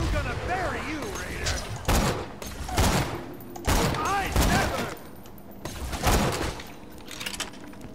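Bursts of gunfire in the shooter game Borderlands 2, a Lilith DLC, firing in rapid volleys at about four repeated intervals, loud and close, with game voices and effects mixed in.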